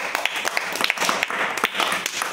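A group of children clapping together in a classroom after a correct answer, dense fast claps filling the whole short stretch at steady loudness, with a few voices faintly mixed in.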